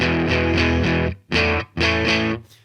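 Electric guitar chords played through an overdrive pedal, a gritty distorted tone in short strummed bursts separated by brief pauses.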